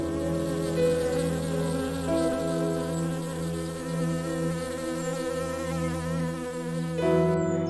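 Honeybees buzzing in a steady, dense drone with shifting wingbeat pitches, close and continuous without any talk, as many insects hover together.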